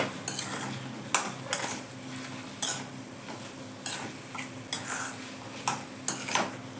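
Chicken stirred into hot tempering in a pot for shahi chicken biryani: a spoon scrapes and clinks against the metal in irregular bursts, close up, with no voices.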